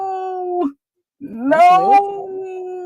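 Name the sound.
dog howling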